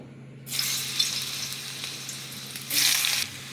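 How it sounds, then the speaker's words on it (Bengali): Chunks of taro drop into hot mustard oil in a wok, bursting into a loud, close sizzle that fades slightly and then flares again with a second burst of frying. "কড়াই সর্ষের তেল দিয়েছি, তেলটা গরম হয়ে গেছে। এবার আমি কচুগুলোকে একটু ভেজে নেব।"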